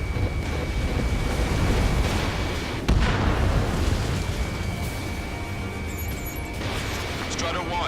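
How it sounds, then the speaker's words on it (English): Missile impact explosion in the Ace Combat 7 combat flight game, a loud broadband blast near three seconds over continuous jet and wind roar, with a steady high whine and radio chatter running through. "Missile hit."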